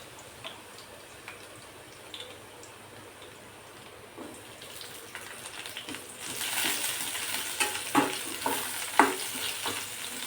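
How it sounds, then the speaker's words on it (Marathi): Garlic and green chili sautéing in a pan, a soft sizzle with scattered ticks and scrapes that grows louder and denser halfway through as stirring picks up, with no voices. "लसूण थोडासा परतायचा। आता हिरवी मिरची टाकूया।"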